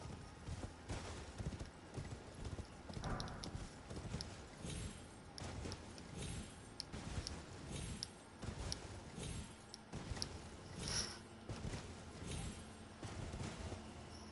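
Horse hooves clip-clopping at a gallop in the video game Elden Ring, with a brief neigh, rhythmic and fairly quiet, continuing without pause and no voices.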